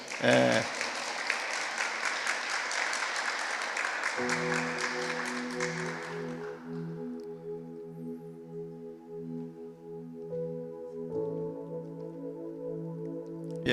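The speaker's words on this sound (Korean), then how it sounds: "여러분 박수로 한번 환영해 주시죠" A church congregation claps to welcome an eight-week-old baby at a Sunday service, a dense round of applause that fades out after several seconds, giving way to sustained organ or keyboard tones.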